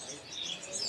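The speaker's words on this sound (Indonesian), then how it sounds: "ini ada yang namanya kolibri separajaya" A kolibri sepah raja sunbird at a bird market gives high, thin chirps and twittering notes over a dense, noisy market background, in one brief burst.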